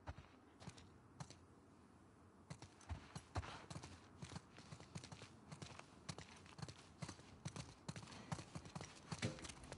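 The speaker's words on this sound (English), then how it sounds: "Let's get back to the horses." Horse hooves clip-clop in The Last of Us Part II video game, a steady run of close, crisp hoof strikes that grows busier and louder as the clip goes on, with no talking.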